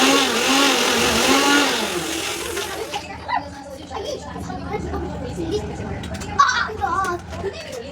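A kitchen mixer grinder with a large jar runs loudly for about three seconds with a high whirring drone, then stops, leaving household clatter and voices.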